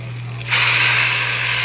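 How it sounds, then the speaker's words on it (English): Four meat thighs searing on high heat, bursting into a loud, sudden sizzle that stays steady and close, with a faint electrical hum underneath. "Got these 4 thighs searing"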